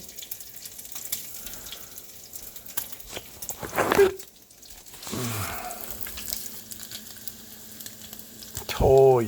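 Bacon frying in a pan, a steady sizzle and spatter under a few soft clatters and a rushing surge midway, with a short voice near the end.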